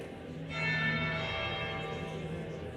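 A church bell tolls in Dragon Age Inquisition, one sustained ringing strike with a long shimmering decay, fairly loud and alone.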